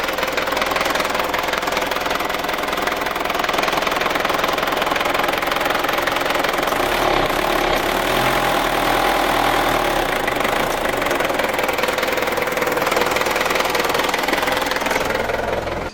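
A Ford Ranger engine idles roughly with a steady, close knocking clatter, sagging as if about to stall after the throttle is released. The vehicle has a fault that stops it picking up revs. No one speaks.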